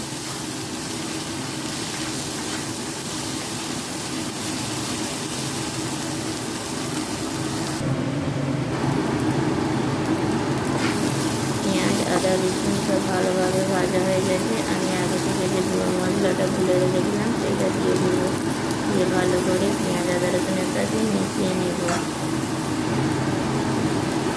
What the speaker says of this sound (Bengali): আদা রসুনের পেস্টটা দিয়ে পেঁয়াজের সাথে ভালো করে ভেজে নেবো